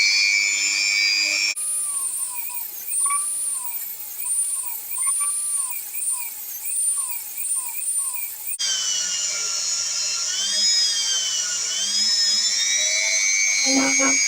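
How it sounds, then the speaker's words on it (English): A high-pitched rotary tool whines steadily like a dentist's drill while restoring an old blacksmith hammer, its pitch wavering as it loads and speeds up, then shifting to a harsher grinding tone with a brief clatter near the end. "it does sound like a dentist drill, and nobody likes those"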